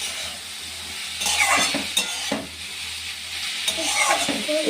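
Vegetables for hupa bhaja fry in a hot pan with a continuous close sizzle, punctuated by several scraping stirs of a spatula against the pan.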